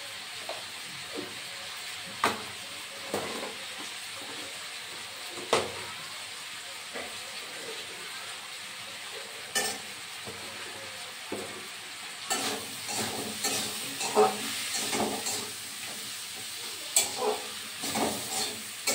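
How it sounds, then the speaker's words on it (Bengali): Taro with a hilsa fish head cooks in a pan, a steady low sizzle beneath intermittent scraping stirs that grow busier toward the end, with a faint voice now and then. "এখানে ইলিশ মাছের মাথা দিয়ে কচুটা রান্না করে নিচ্ছি"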